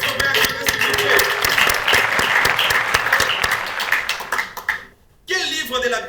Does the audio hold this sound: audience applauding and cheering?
yes